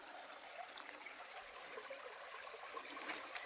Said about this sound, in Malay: Oke, ini ada anak sungai di sini ya.